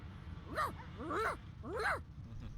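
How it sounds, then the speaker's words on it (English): Dog whining in the fantasy role-playing game Divinity: Original Sin 2, three distinct rising-and-falling whimpers spaced about half a second apart, fairly close and clear over a low, steady ambient rumble. "The dog whines and continues."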